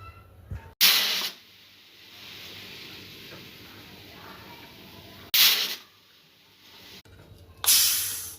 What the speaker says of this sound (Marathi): 2-3 शिट्ट्या काढून घेऊ कुकरला